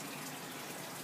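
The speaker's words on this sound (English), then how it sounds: "one running to just an air stone that's bubbling right back there in the" Faint, steady bubbling and gushing water from an air stone in a guppy breeding tank, a constant close wash of fizzing with no speech.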